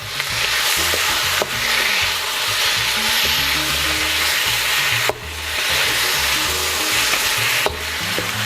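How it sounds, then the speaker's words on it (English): Pork belly sizzles steadily in a hot pan with caramelized sugar, a constant frying hiss with occasional scraping and stirring sounds, no talking. "So our pork has been frying for about 4 to 5 minutes"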